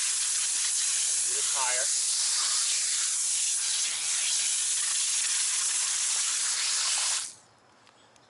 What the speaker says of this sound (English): we got the wheel cleaner loaded up in the IK9